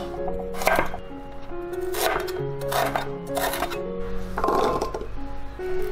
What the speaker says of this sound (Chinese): 再来准备一些配料，全部切成大粒。